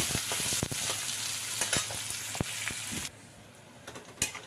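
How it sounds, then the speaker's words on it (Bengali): Chopped onion, ginger and garlic fry in a hot pan, giving a steady sizzling hiss broken by sharp scraping clicks as the mixture is stirred, close and fairly loud with no talk. "দেখো পেঁয়াজ আদা রসুন বেশ ভাজা হয়ে গেল"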